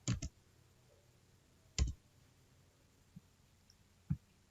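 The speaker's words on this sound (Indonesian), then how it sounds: "selanjutnya kita akan menekan tombol F4 pada keyboard" Key presses on a computer keyboard during spreadsheet work, a few sharp, close clicks spaced irregularly over several seconds against a quiet hum, with no talking.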